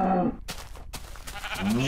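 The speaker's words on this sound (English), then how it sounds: "Sheep!" A sheep bleats in the video game Minecraft, short wavering calls near the start and end, close and fairly loud, with a sharp game noise in between.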